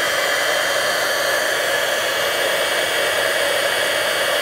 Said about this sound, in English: I'm going to use the heat tool